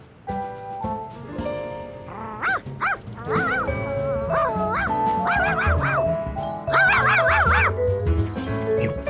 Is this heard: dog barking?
yes